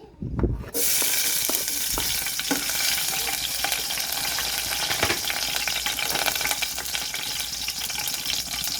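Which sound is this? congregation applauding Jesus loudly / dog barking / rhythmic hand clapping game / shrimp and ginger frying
shrimp and ginger frying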